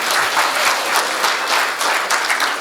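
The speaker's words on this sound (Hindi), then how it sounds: "एक बार मेरे स्वागत में तालियां बजा दे," Warm audience applause rolls through a Hindi comic poetry gathering, a dense rhythmic patter of many hands clapping at steady volume with slight swells, no talk over it.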